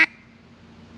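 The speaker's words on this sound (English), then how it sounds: "learning how to do just a normal quack is very important" A hand-blown duck call gives one short, sharp quack at the start, then falls quiet apart from a low background hum.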